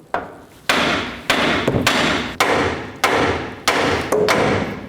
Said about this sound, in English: you can just use a hammer and give it a tap on the top of the knuckle